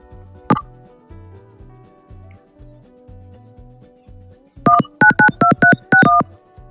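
Telephone dialing tones from an Issabel phone system placing a call to a cell phone: a single early beep, then a quick run of about seven crisp tone pulses over a faint steady hum.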